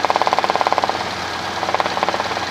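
A Robinson R-22 helicopter's engine and rotor thrum close and loud as the collective is raised, with a fast rhythmic pulsing that fades briefly and then returns.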